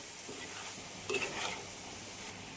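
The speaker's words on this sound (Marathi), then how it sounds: "आता यात सोडते मी कापलेली तोंडली आता ही सुद्धा सर्व एक जीव करून घ्यायची इकडून तिकडून परतून घ्यायची व्यवस्थित" Chopped ivy gourd stirred and sautéed in a hot pan, giving a steady soft sizzle with spoon scrapes and a brief louder stir in the middle, close up with no talking.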